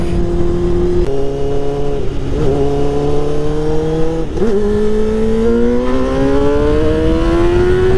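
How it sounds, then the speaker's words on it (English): Steady traffic drone with a car engine humming and slowly rising in pitch as it accelerates, loud and continuous, no voices. "Oh, it's just traffic."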